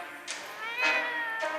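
A cat in a video game gives a few short, close meows in quick succession, clear and fairly loud, with a bit of background game sound.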